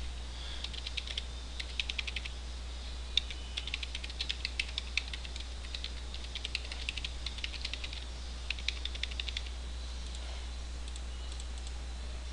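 Typing on a computer keyboard while entering an email password, with bursts of quiet, rapid key clicks separated by short pauses over a faint steady hum.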